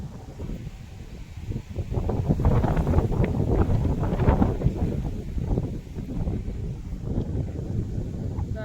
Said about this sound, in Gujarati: પવન એટલો મસ્ત ઉડે છે